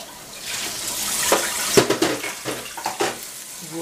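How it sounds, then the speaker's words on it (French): Water poured from close by into a saucepan already holding a little oil, for a Tunisian yabrak sauce: a splashing, gurgling stream that rises and breaks into several brief splashes and knocks, with no talk. "De l'eau."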